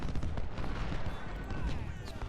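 Cannon and artillery fire booming across a Civil War battlefield in the strategy game Ultimate General: Civil War at Cross Keys, a dense rumble of blasts and crackling volleys running steadily throughout.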